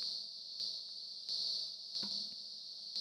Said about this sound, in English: you can hear the crickets